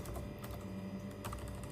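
Keystrokes on a computer keyboard while entering a search in 3D modeling software, a soft irregular patter of taps close to the mic over a steady background hiss, with no talking.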